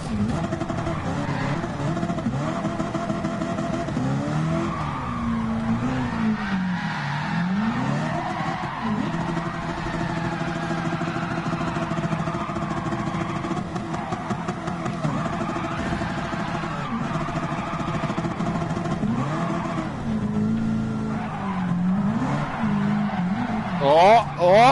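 Revving car engine with drifting, squealing tyres in a racing video game, loud and continuous throughout, with the tone rising and falling as the car slides through corners.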